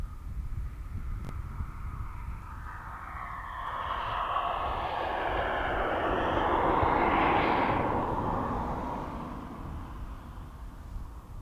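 A tanker aircraft passes at East Midlands Airport, a broad jet roar that swells to a peak midway and then eases, with wind buffeting the microphone.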